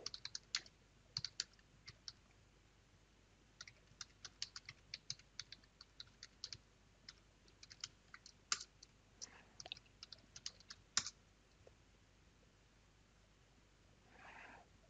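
Quiet, close typing on a computer keyboard: irregular bursts of light key clicks spread across about fifteen seconds, with short pauses between runs and a faint low background hum underneath.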